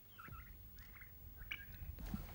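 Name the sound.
male turkey gobbling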